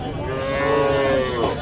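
Young bull calves at a rural cattle market low out one long, drawn-out moo close by, rising and falling as market noise carries on in the background.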